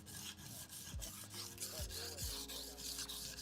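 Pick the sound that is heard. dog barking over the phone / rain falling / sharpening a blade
sharpening a blade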